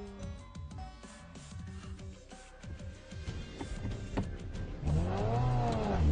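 A car in sport mode accelerates, its engine note climbing and swelling louder toward the end after some clicks and mechanical noise, with no talking.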